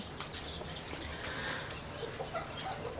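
Bantam hens cluck softly in a backyard coop, with short, scattered clucks over a low outdoor background.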